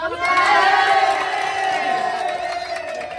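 A crowd cheers and shouts together at a team games awards announcement, loud and sustained, with whoops rising over a dense mass of voices that gradually eases off.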